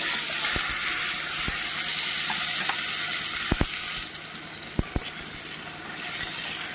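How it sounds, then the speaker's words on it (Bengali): Steady sizzle of potatoes frying in a wok fills the clip, with occasional sharp clinks of a utensil against the pan; the hiss drops quieter partway through. "এই আলুটা ভেজে নেবো"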